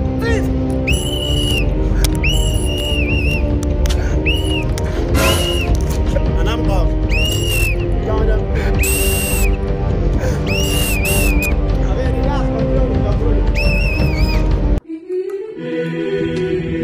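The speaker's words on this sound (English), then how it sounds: "stop blowing this whistle like this" A whistle is blown repeatedly in a comedy skit, rising chirps cutting over loud, busy background music and noise, each blast short and shrill, ending abruptly near the close.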